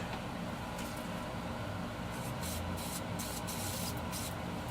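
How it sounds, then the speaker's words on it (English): An aerosol can of Crackle Killer contact cleaner hisses continuously while spraying a Gibson SG Special guitar's electronics, with a few sharp spray bursts toward the end. "Spray a little contact cleaner on there and push it in"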